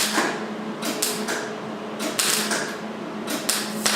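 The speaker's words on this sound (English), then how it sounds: "we are getting the panel welded in" Sheet metal panel being welded into a Chrysler 300 body during a vinyl top replacement, with a steady crackling hiss broken by sharp bright bursts and clicks throughout, close and fairly loud.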